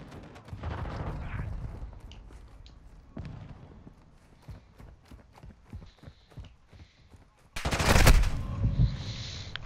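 Gunfire in Call of Duty MW2 multiplayer, Season 4: scattered single shots and short bursts with footstep-like clatter, then a loud dense burst of automatic fire near the end.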